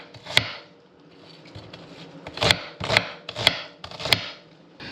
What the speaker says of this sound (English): I'm just gonna go ahead and slice my onion up.